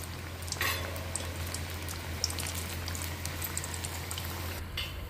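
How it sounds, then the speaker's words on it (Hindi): Samosas fry on low heat in refined oil in a kadai, making a steady, dense sizzle and bubbling hiss with scattered small pops, close and continuous under a low hum. "तो समोसा फ्राई करने के लिए हमने वही कढ़ाई रख दी है जिसमें हमने फिटिंग बनाई थी समोसा की।"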